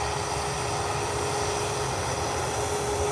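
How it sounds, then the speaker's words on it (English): Steady, loud roar of a Ryanair Boeing 737 jet airliner engine at an airport at sunrise, a continuous broadband rumble that holds without a break. "That's a plane."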